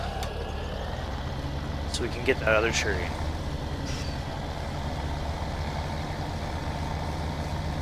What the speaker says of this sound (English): Hop in the tractor